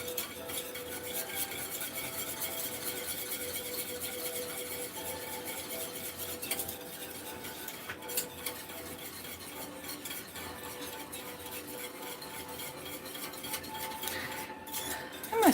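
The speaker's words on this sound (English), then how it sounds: "Just stir constantly." A spoon stirring Christmas pudding apple cider syrup in a pot, with continuous close scraping and soft clinks against the pot's sides, the scraping steady and unbroken throughout.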